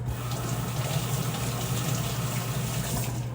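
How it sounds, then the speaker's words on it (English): Tap water runs steadily over an onion held under the stream in a kitchen sink, a close, even gushing splash throughout with no talk. "I'm gonna rinse it off."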